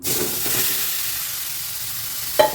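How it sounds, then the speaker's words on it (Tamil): Carrots fry in ghee for carrot halwa with a loud, steady, hissing sizzle close to the pan that holds almost unchanged throughout, ending with one quick metallic scrape of a spoon. "இந்த எண்ணெயிலே கேரட்டை போட்டு வறுத்துக்கலாம்"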